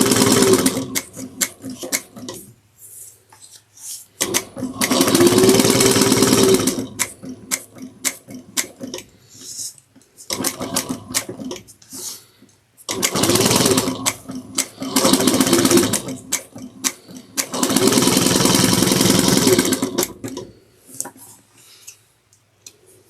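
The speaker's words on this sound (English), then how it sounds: "So I'm going to just stitch down the sides at 1/8 of an inch." A home sewing machine stitching down the sides of a fabric sling pack at an eighth-inch seam allowance, running in several loud sustained bursts separated by quiet pauses, close up with no talking.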